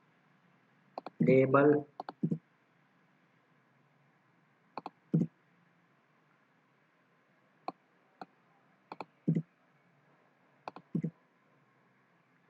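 Code being typed on a computer keyboard during a Laravel 9 coding session, sparse clicks and short bursts of keystrokes spread out in quiet, close and light, with a brief stretch of talk near the start.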